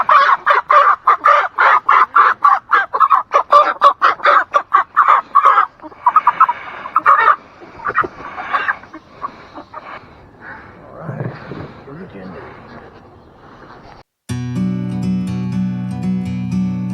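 Meat chickens cluck in rapid, loud, repeated bursts during a backyard harvest, then thin out into scattered softer squawks and rustling before music starts.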